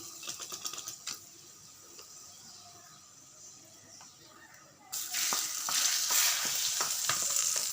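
Curry leaf and onion tempering tipped into a simmering egg and coconut milk gravy for a Sri Lankan curry; quiet clinks give way to a sudden loud, close sizzle that hisses steadily to the end.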